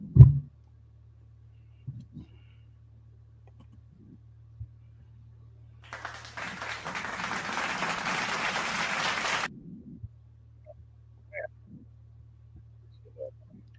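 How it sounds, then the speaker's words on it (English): A short round of clapping on a podcast set, a few seconds of steady applause from a small group, fairly close, between quiet stretches with occasional thumps. "We gotta clap it up."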